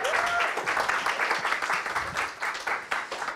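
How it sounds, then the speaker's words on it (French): An audience at a training program's closing ceremony applauds the coach, with steady, moderately distant clapping filling a short stretch, somewhat faint and diffuse. "On peut l'applaudir"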